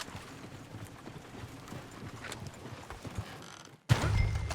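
Horse hooves clip-clop steadily in Red Dead Redemption 2, a close, even trot of repeated hoof strikes that continues for several seconds before a heavier thud near the end.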